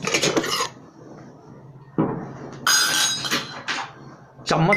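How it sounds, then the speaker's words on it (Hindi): A metal spoon clinks and scrapes against a drinking glass while stirring powder into warm water, in short bursts of clattering separated by quieter pauses, loud and close. "1 गिलास गुनगुने पानी में ये डाल करके अच्छी तरह से चलाएं आप। अच्छी तरह से चलाना है इसको।"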